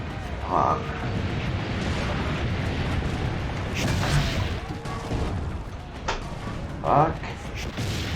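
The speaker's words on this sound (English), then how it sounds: "Destroy their cannons, Signore." Cannon fire in Assassin's Creed: Brotherhood, with deep booming blasts and rumbling impacts over a continuous low battle din and scattered clanks, while someone talks.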